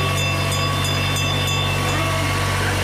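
A small holiday ride-on train, the Paristown Express, rumbles steadily with a regular clacking rhythm of wheels over track joints, loud and close, with a constant low mechanical drone.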